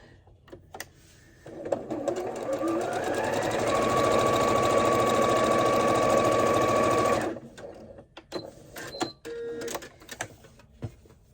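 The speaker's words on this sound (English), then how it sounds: "we will just sew it to this piece that we've made" A sewing machine runs for about six seconds with a fast, steady whirring stitch, joining quilt fabric pieces for a French braid table runner. Handling clicks and rustles come before and after, and nobody speaks.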